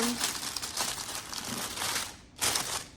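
A large 24 by 30 bag for a Mother's Day gift basket crinkles and rustles continuously as it is handled, ending in a louder crackling burst, with a voice faintly present.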